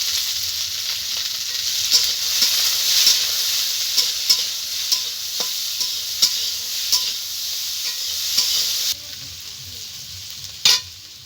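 Vegetables frying in a pan for fried rice, with steady close sizzling and crackling throughout, punctuated by repeated sharp stirring clinks of a utensil against the pan; no voices.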